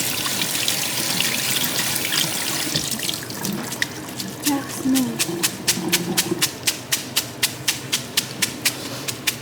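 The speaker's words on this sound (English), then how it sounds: "it says to rinse them under hot water and that will help stop them sticking together" Hot tap water runs steadily as noodles are rinsed in a kitchen sink, a continuous splashing hiss that gives way to a regular series of drips and small splashes toward the end.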